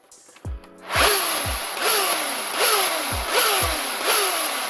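Nerf Zombie Strike Revreaper blaster with its motor revving in repeated bursts after a brief lower whir, each rise giving a loud, close buzzing whine over a steady high hiss, about five cycles with no talking.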